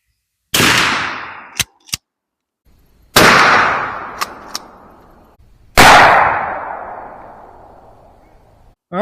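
Three loud, sharp shots from a .410 bore shotgun firing Federal Powershok 2.5-inch quarter-ounce rifled slugs ring out outdoors, each blast spaced a few seconds apart with a long echoing decay and faint clicks between.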